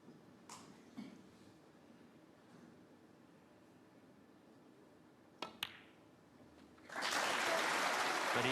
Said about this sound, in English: The crowd very excited.